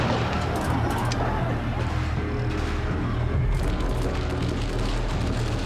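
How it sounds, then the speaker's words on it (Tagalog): Gunfire at a police barricade during a clash with protesting farmers, sharp reports and booms scattered through a dense, loud crowd roar and shouting, with talk mixed in. "At maririnig na ang putok ng mga baril."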